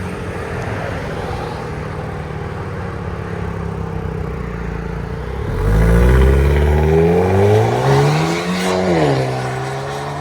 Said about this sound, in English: The first one is with the Borla only, with the valve closed.